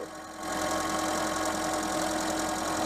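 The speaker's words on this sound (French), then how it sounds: "on va arrêter le moteur, je vais le laisser refroidir 5 minutes." A car engine running on Super 5 ethanol fuel idles steadily, giving a continuous even rumble with a faint regular pulse, close and moderately loud, with no talking.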